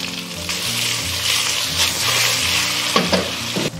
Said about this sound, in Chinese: 油烧热以后，我们就可以倒入罗氏虾，保持中大火煎